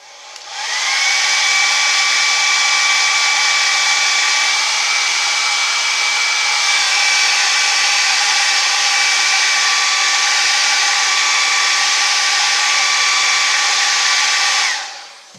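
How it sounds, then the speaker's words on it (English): A hair dryer blows with a steady, loud whooshing hum that starts up, runs continuously for about fourteen seconds, then cuts off. "We're going to have to hit the hairdryer a few seconds just to dry that out"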